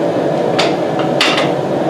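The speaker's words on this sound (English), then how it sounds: "Going with a smaller hammer." Smaller hammer tapping a forged knife blade during final cleanup after forging, a few sharp metallic strikes spaced irregularly over a steady background hum.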